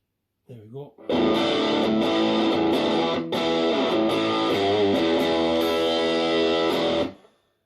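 Loud, thick distorted electric guitar run through a BOSS DS-1 pedal, tone set low around 9 o'clock, a short plucked lead-in, then about six seconds of continuous saturated chords with a brief dip midway before fading out.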